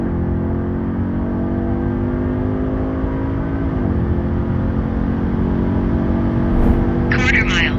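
A tuned 2020 Audi S3 8Y, Stage 2 with 430 hp, accelerates hard, its engine note climbing steadily through the gears with one shift dip partway. The sound is loud and close, and a brief beep rings out near the end.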